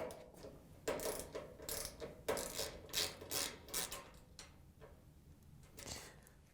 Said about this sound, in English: We're going to use a ratchet with a 1/4" socket to take out the screws.